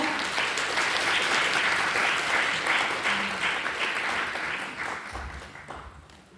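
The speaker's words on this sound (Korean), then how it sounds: "큰 박수로 모시겠습니다" Sustained applause from a large audience in a packed hall greets a professor arriving for a keynote at a Korean welfare centre's 25th-anniversary event, loud and steady before thinning out near the end.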